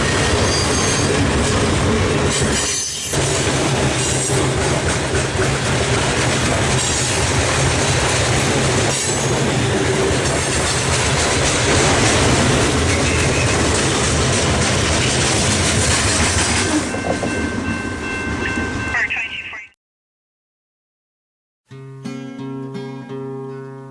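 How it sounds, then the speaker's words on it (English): Canadian Pacific northbound maintenance-of-way mixed freight train with a GP38-2 and SD40-2 locomotives rolling past, loud steady rumble of cars with wheel squeal and rhythmic clickety-clack, fading out abruptly near the end. "Tonight, A15 is a northbound maintenance of way mixed train."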